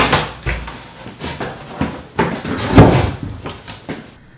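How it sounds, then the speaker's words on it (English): Exterior door lock and deadbolt kit being unboxed, with a run of close, sharp cardboard and plastic packaging knocks, rustles and thumps spread unevenly, one heavier thump near the middle. "here I am just opening up a dock box set for an external door lock"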